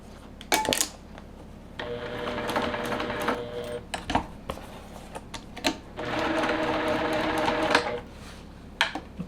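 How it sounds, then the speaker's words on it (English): A sewing machine stitches slowly through foam on a quilting design board, making two sustained mechanical whirring runs broken by short clicks, clunks and handling noises, close and fairly loud with no talking. "definitely go slow when you're stitching through this foam"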